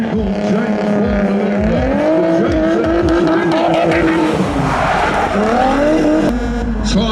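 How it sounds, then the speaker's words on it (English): A Nissan 350Z spins donuts at a motorsport festival, its engine droning steadily with rising and falling revs while the shredding rear tyres squeal and skid continuously, loud and close, with a commentator talking over it. "Tyres starting to shred, we can see some debris coming off those rear tyres."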